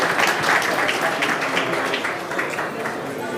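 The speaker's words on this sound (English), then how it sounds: "And another round of applause for our panel." Lively audience applause for a panel at the CogX festival stage, close and full clapping from a crowd with slight swells, gradually easing toward the end, with faint voices mixed in.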